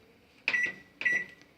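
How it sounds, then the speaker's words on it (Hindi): A Samsung 28-litre smart microwave oven beeps twice as it starts a microwave-convection combination, two short electronic tones about half a second apart in a quiet room. "तो ये माइक्रोवेव कन्वेक्शन का कॉम्बिनेशन स्टार्ट हो जाएगा।"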